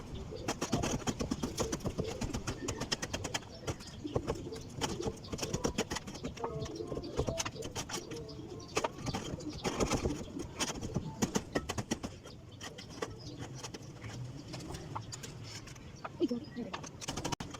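Pigeons coo repeatedly inside their cage, soft and close, mixed with rustling, scratching and clatter as the cage gets cleaned; a person's voice comes in at times.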